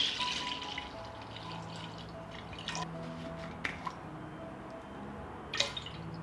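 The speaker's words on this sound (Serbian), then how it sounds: "Sipat ću mleko u jednu dublju šerpu." Milk is poured into a deep cooking pot, heard as quiet close trickles and scattered drips with a few louder splashes toward the end and no voices.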